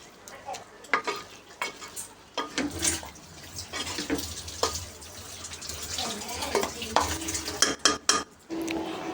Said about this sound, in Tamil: கொஞ்ச நேரம் அப்படியே சிம்லையே இருக்கட்டும்